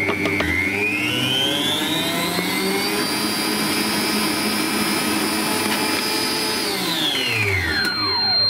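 An electric whisk beats meringue with sugar in a bowl, a loud steady motor whine that climbs in pitch, holds high and then winds down near the end.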